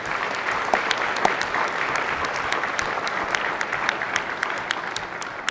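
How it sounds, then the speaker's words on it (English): Applause in a Hawaii Senate chamber, a sustained, dense round of clapping from the floor and gallery that stays fairly loud and even throughout, with a few sharper individual claps. "Please give them a round of applause."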